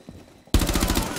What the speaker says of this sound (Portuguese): eu não tô conseguindo trocar tiro com esse cara